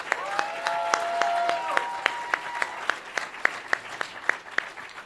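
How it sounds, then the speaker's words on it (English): Applause at a law school moot court competition final, sparse clapping from a small audience with distinct separate claps, thinning toward the end, while a voice speaks briefly over the first part. "Let's have a round of applause before they even get started."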